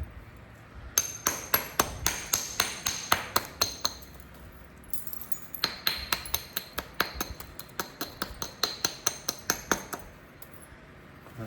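Coastal plains chert is beveled along its edge by flintknapping, giving rapid bursts of sharp, glassy clicks and taps close up, with a brief pause between two runs of strikes and no voices.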